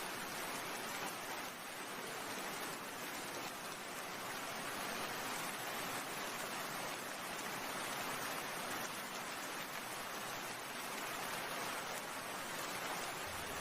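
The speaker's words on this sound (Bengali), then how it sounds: "বৃষ্টির জন্য কিচ্ছু বোঝা যাচ্ছে না" Steady, heavy rain pours down without a break in a rural Bengal village scene, a dense unbroken hiss of water with no voices.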